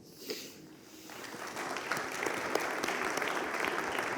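Audience applause at a liberty conference panel starts lightly, then swells into steady, dense clapping from a crowd in a hall, with no speech over it.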